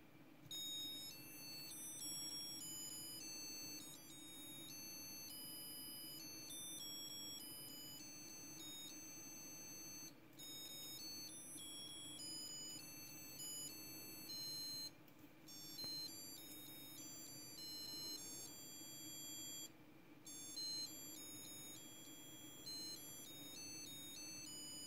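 Vintage Pocahontas and John Smith Disney musical wristwatch chiming a thin, high electronic melody, steady and continuous over a low background hum, with no talking.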